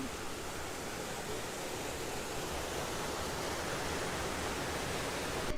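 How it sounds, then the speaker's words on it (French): Small cascades tumbling one after another along a forest river in Auvergne, France, a steady dense rush of water close by with no voices. "Donc voilà les petites cascades comme ça qui s'enchaînent."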